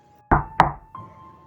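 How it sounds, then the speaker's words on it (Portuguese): Someone knocks on a door with two sharp, loud raps followed by a softer third, close and dry, with a faint hum underneath and no voices. "E continuou aquelas batidas na porta."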